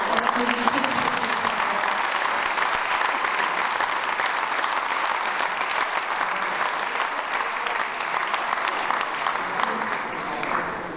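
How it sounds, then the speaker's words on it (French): A large crowd applauds loudly and continuously at a speech and prize-giving ceremony, the dense clapping holding steady throughout before easing slightly at the very end. "Et on l'applaudit très fort."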